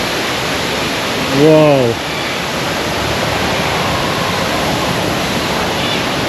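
Waterfall rushing in the Crimson Wetlands aviary at Singapore Bird Paradise, a steady broadband roar that fills the whole clip, with one brief exclamation from a voice early on.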